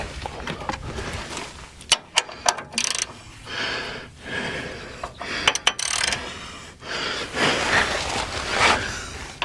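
A ratchet wrench works at bolts on a Kubota, with bursts of clicking ratchet strokes, metallic clanks and scraping in between, close and fairly loud.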